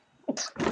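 One sharp human sneeze, close and fairly loud: a quick intake of breath and then an explosive burst.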